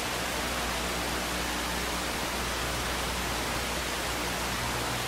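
Steady, loud TV static hiss inside the horror video game The Crooked Man, an unbroken wash of broadband noise with a faint low hum beneath and no voices.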